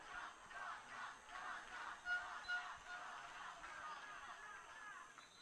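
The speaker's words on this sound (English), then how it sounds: "Italian fans up in the stands, cheering." Italian fans cheering from the stands at a quidditch World Cup match between Italy and Spain, a distant crowd roar with rhythmic chanting swells and a few louder shouts, faint and steady throughout.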